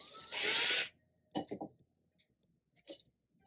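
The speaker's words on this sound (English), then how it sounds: "The second screw on the side is just a screw that needs to be loosened." A screw being loosened on a ceiling fan mount: a short, loud whirring burst from a power driver, followed by a few brief scraping clicks and handling knocks. No one speaks.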